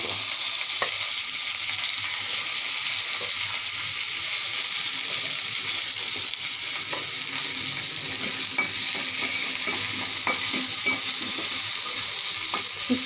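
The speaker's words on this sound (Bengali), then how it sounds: "এখন আমি পেঁয়াজ রসুন আর শুটকিটা একটু ভেজে নেব" Onion, garlic and pressed dried fish (chepa shutki) frying in a pan, a steady close hiss of sizzling oil with occasional stirring clicks and scrapes throughout, no talking.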